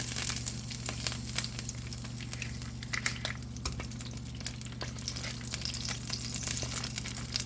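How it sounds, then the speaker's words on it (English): Half a stick of soft butter melting in a pan with chicken drippings, sizzling and crackling steadily with sharp scattered pops, close and fairly quiet. "we're going to go in with half a stick of butter. Get that in there."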